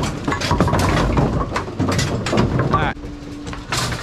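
A pin fork knocks over bowling pins at an AMF 82-30 pinsetter, a series of close, sharp wooden clatters and knocks, followed by a short steady mechanical hum near the end.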